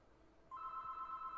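A telephone rings, a steady electronic tone starting abruptly after a brief quiet moment and holding on, faint and alone.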